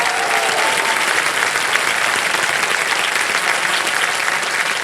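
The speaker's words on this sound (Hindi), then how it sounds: "जोरदार तालियां बज जाए" Studio audience on a TV quiz show applauding loudly and steadily, a dense continuous wash of clapping that holds throughout without a break.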